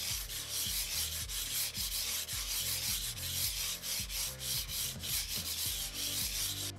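Tiger Ice skates on a Logitech G Pro X Superlight mouse scratching across a SkyPad 2.0 glass mousepad, a loud, continuous close-miked rasp with rhythmic back-and-forth strokes and no talking.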